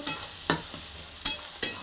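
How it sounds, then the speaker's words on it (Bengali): Steady sizzling of fish frying in hot oil, broken by a few sharp pops and spatters. "তেল পটকাটা ভাজা হয়ে গেছে"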